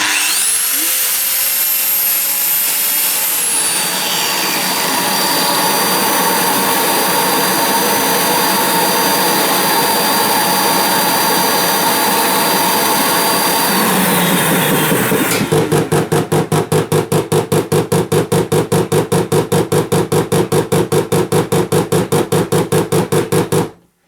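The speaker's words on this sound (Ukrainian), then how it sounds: "Пилосос почав працювати." Starmix ISC L-1625 TOP industrial vacuum cleaner running with a loud, steady motor whine that shifts at about 15 seconds into a rapid, pulsing drone with the intake closed, then cuts off abruptly.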